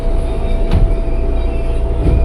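Commuter train pulling out of Manggarai station, a steady rumbling drone with a faint high whine and a soft clunk partway through, heard from close by without any talk.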